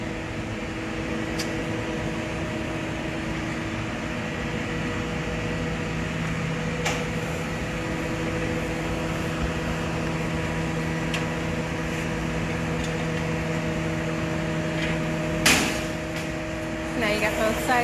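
A glassblowing furnace roars steadily while a glass bowl heats inside it, a constant broad rushing hum with a few faint clicks and knocks on top.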